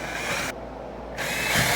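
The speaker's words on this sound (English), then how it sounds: "So I'm just going to drill a couple of 1/4 inch holes." A power drill drilling 1/4 inch holes whirs at high speed in two bursts with a brief pause between, close and loud, with no talking.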